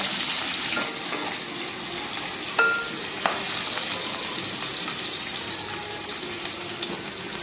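Onions fry in oil for chicken curry with a steady, even sizzle, broken now and then by the scrape and clink of stirring in the pan.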